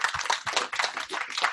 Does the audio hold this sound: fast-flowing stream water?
no